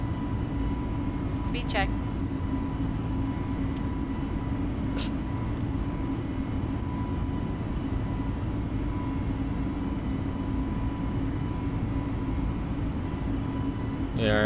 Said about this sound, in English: So there's our takeoff.